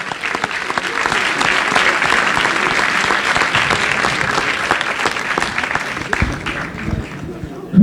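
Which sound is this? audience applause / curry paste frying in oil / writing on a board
audience applause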